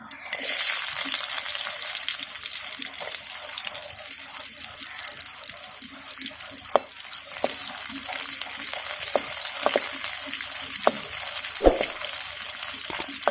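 Small chopped onions frying in hot oil with mustard seeds and urad dal for a village-style mushroom fry, giving a steady close sizzle with scattered pops and crackles and a few stirring sounds.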